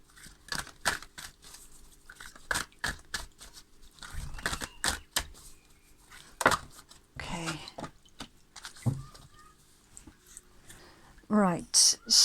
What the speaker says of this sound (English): some viewers do still like to see just a quick little card shuffle on camera